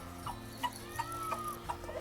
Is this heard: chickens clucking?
yes